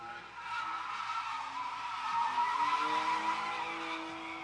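A drift car slides around a track at a drift event, its tires squealing in a long, sustained screech over a steady engine roar, loud and fairly close throughout.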